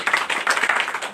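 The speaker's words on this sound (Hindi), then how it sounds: "उनका जोरदार तालियों से एक बार स्वागत है।" Short burst of clapping from a crowd welcoming party workers joining at a political event in Sujanpur, a quick run of claps heard nearby.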